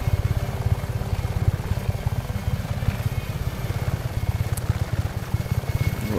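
Helicopter rotor thumping steadily in the video game Just Cause 3, a continuous rapid low chop heard close and loud throughout, with no talk over it.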